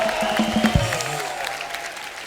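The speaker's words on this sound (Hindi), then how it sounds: "जोरदार तालियां वर्षा जी के लिए हो जाए।" Audience applause greeting a guest on a televised comedy show, a brief burst of clapping and crowd noise that tapers off over about two seconds, with a faint voice and music in the background.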